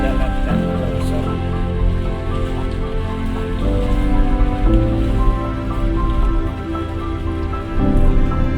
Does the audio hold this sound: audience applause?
no